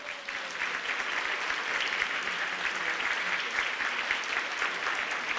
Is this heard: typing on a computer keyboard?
no